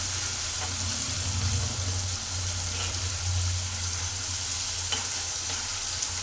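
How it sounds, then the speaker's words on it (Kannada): Chopped tomatoes fry in hot oil for an egg curry, a loud continuous sizzle and hiss close up with a low steady hum underneath and occasional faint clinks. "ನೋಡಿ, ಚೆನ್ನಾಗಿ ಫ್ರೈ ಆಗ್ತಾ ಇದೆ ಟೊಮಾಟೊ"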